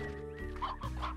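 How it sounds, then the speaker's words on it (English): A couple of short chicken clucks, close and clear, over a steady tonal background hum, in the video game Slime Rancher. "Wow, there's so many chickens everywhere here."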